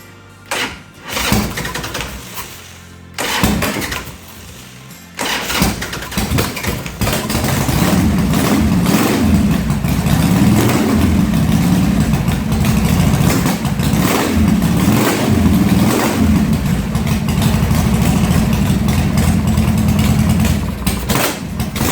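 A carbureted 1990 Harley Sportster fitted with an S&S Super E carburetor cranks in a few short bursts, then fires and settles into a loud, steady, lumpy idle close by.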